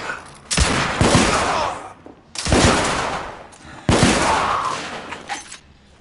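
Three loud, close bursts of rapid automatic gunfire from a video game, each lasting over a second with short gaps between, the shots rattling in quick succession and echoing as they trail off.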